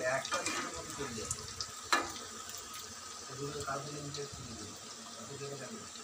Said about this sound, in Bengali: হালকা হাতে একটু নেড়ে দিচ্ছি